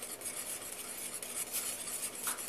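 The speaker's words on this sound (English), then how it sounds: "you're going to take all your flour and just mix it in together" Flour being mixed into eclair cake batter, a soft continuous scraping and rubbing of a utensil against a bowl, quiet and steady with no voices.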